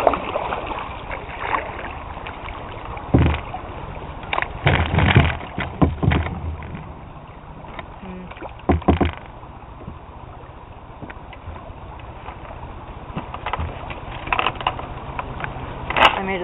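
A kayak is paddled through shallow river water near submerged wood and a log jam. Scattered splashy paddle strokes and knocks come in bursts over a soft, windy background.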